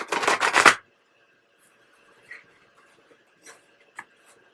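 A close, rapid riffle of tarot cards being shuffled, then near silence with a few soft taps and flicks.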